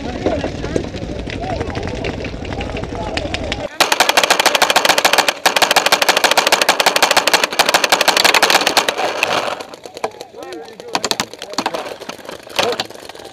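Rapid bursts of automatic gunfire crackle during a game, loud and close with dense, repeated shots, while voices talk over the firing.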